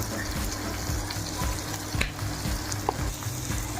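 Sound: stirring spices in a frying pan for an egg fry

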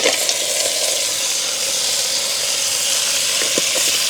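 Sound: crab added to sautéing onions and green chillies in clay pot

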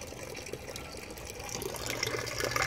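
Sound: water pumped by 40 watt air pump through aquaponics pipe

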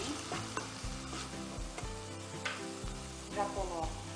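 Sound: stirring sautéing peppers and seasoning in pan

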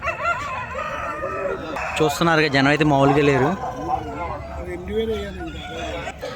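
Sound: roosters crowing at Nallapadu rooster market

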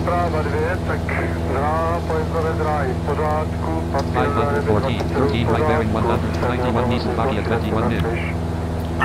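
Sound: airplane approaching to land in a flight simulator video game

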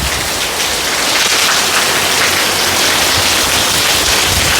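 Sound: heavy rain beside a forest

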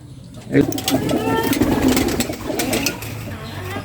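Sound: Beauty Homa pigeon cooing

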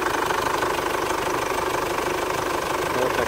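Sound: 2005 Kia Sportage engine running

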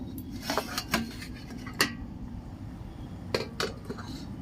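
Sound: lid being lifted off steaming idli pot

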